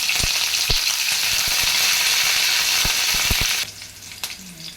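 Chopped green chillies and curry leaves crackle in hot oil for an Andhra gongura egg curry, a loud dense sizzle with sharp pops, cutting off abruptly to quiet near the end.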